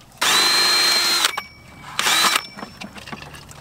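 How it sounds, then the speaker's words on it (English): A power drill bores a hole through a plastic pond filter housing to fit a uniseal, two loud whining bursts, the first about a second long, the second shorter, with handling clatter between and after. "So now let's go drill this through"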